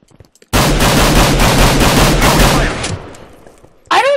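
Rapid, loud gunfire from a P2000 pistol in Minecraft's Minestrike mode, shots hammering in a steady close burst for about two seconds, then fading into a decaying tail before a brief final sound.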